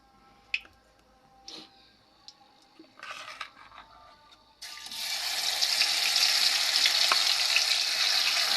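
Ground masala paste dropped into hot oil with bay leaf and cloves for a green chilli chicken curry, a few light clinks and stirs first, then a loud sustained sizzle that continues to the end.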